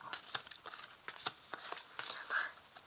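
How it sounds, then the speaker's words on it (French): Tarot cards laid out one by one make soft snaps and papery swishes at an uneven pace, close and quiet, with a faint murmuring voice in the background. "Je vais placer ici 5 cartes."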